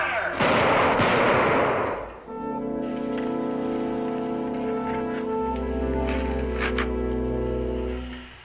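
A firing squad lets off a volley of musket fire: two sharp, loud cracks close together, followed by a ringing tail and then sustained musical tones.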